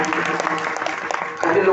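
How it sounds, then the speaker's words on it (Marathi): Crowd at a Marathi devotional kirtan for the Shri Ram consecration claps along in sharp, loose bursts of hands, mixed with voices, growing a little fuller toward the end. "जोरात वाजवा टाळी"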